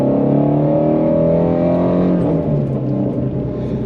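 Ford Mustang Shelby GT350R Final Edition Heritage V8 revving on a city road, a loud, close roar that climbs in pitch and then eases off into a lower growl.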